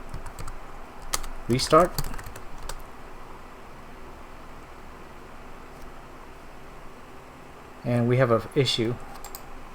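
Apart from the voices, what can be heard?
typing on a computer keyboard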